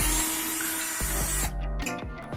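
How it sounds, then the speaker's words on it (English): A power drill bores through several layers of body metal while an air suspension goes into a Mercedes C63. The motor whines loudly and steadily at close range, with a few brief pulses where the bit bites and the load changes. "So you're gonna have to drill a little bit on that side."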